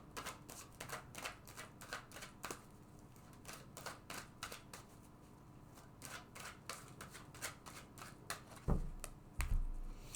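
Tarot cards shuffled by hand in a quiet room: a steady run of crisp, rapid riffles and flicks repeating throughout, close and moderately loud, with a couple of heavier thumps near the end.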